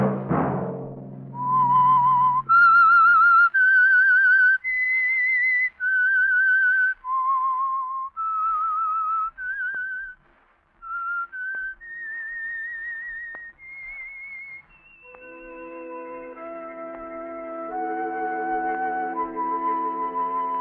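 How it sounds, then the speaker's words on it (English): A melodic radio-program whistle theme, about fifteen seconds of a lone, clear whistled tune rising and falling in sustained notes, then joined by a soft orchestral backing toward the end. "Let that whistle be your signal for the Signal Oil program, The Whistler"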